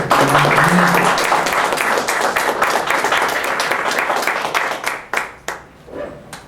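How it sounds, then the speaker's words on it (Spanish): Dense, loud applause from an audience welcomes an engineer and army colonel to the podium at a Mexican military education event, gradually thinning into a few scattered, separate claps before dying out. "Pido un aplauso para recibir al ingeniero y coronel Tomás"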